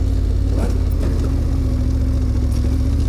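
A motorcycle rides down a gravel track from a mountain peak in Corsica, its engine droning loud and steady up close, with crunching and rattling from the loose surface layered over the mid-pitched hum.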